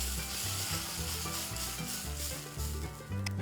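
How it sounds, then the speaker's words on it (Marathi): Loud, intense hissing sizzle as water hits a very hot dosa griddle, bubbling and crackling continuously at close range with no voices. "तवा चांगला तापवलेला आहे छान तापला आहे त्याच्यावर आपण हे असं पाणी घालणार आहोत"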